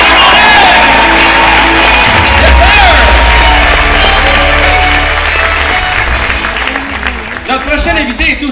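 A comedy show audience applauds and cheers loudly for a stand-up comedian, with whoops and shouts over sustained clapping that gradually thins out near the end.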